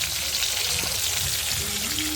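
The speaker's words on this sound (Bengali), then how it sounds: "মাছটা ভাজা হোক" Catla fish fries in hot oil with a dense, steady crackling sizzle and scattered pops, fairly loud and close throughout.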